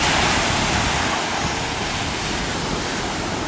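Ocean surf at Newport Beach, California rolls in as a dense, continuous roar of breaking waves, loud and close, with wind buffeting the microphone and no voices.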